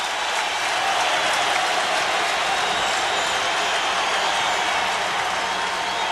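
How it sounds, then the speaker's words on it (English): A basketball arena crowd cheers in a steady, dense roar throughout, loud and unbroken, during a 1990 NBA playoff game between the Sixers and the Bulls. "The crowd on its feet."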